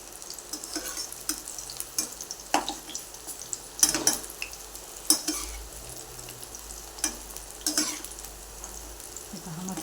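Corn fritters (maka bhaji) frying in hot oil give a steady close sizzle with bright crackles and occasional louder pops and stirring scrapes, with no talking.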